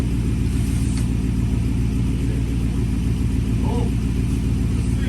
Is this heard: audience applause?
no